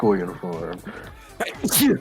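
A single sneeze bursts out near the end of a tabletop role-playing game session, amid ongoing conversation among the players.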